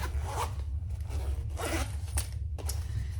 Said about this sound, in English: I'm going to close my zipper.